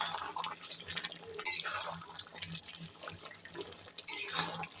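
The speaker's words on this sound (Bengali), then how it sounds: "আমি এবার গরম জল ঝোলের জন্য দিয়ে দিচ্ছি।" Hot water is poured into a pot of mutton curry being cooked for gravy, a soft splashing trickle with brief louder pours, close and fairly quiet.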